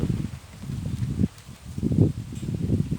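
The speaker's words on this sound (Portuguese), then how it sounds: "Está batendo aqui um vento muito gostoso." Wind blows outdoors in gusty, rumbling waves with soft rustling, swelling and easing several times close to the microphone, with no one speaking.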